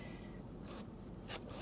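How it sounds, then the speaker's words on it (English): A double zipper on a thrifted vintage bag gives two quick, faint, close zipping strokes. "zips, it's a double zipper if you prefer"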